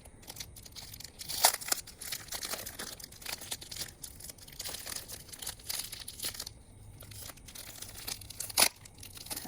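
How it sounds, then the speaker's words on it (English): Soft crinkling and tearing of packaging as an orchid plant is unwrapped from a deluxe gift box, close and quiet with irregular rustles and a couple of sharper crackles. "Just unwrap it, just look at the roots and everything."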